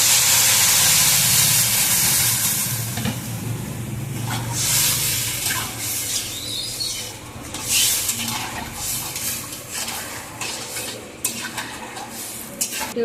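Water poured into a hot pan of thin mango sour, a bright hissing splash at first that settles into steady simmering with occasional clinks of a stirring utensil.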